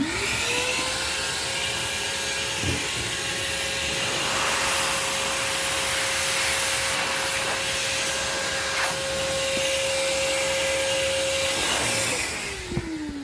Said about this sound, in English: reversing my vacuum and blowing it out